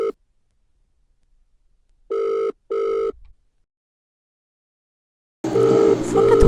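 A phone call goes unanswered, with two short repeated electronic ringback tones in the middle of long silence, then a burst of louder tone and noise near the end.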